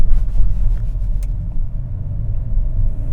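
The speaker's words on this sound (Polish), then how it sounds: "macie śpiącego policjanta przejeżdżałem przez niego wolno" A 2022 Hyundai Kona N 2.0 turbo with dual-clutch gearbox rolls slowly along with a heavy low rumble, a couple of soft thumps as it eases over a speed bump, steady engine noise throughout.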